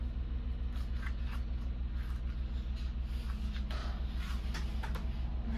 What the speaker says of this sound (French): c'est le bruit de ma machine à laver, elle est en train d'essorer.